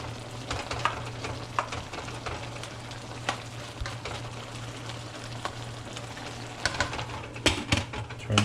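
Shrimp fry in oil with a steady close sizzle and crackle, scattered pops and light utensil clicks, with a constant low hum underneath throughout; no talking.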